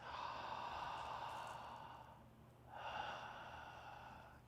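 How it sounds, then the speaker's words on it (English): Deep breaths during a posture and back-pain breathing exercise: two long, quiet, airy exhales close to the microphone, separated by a short pause, with no talking. "We'll take maybe 3 or 4 breaths"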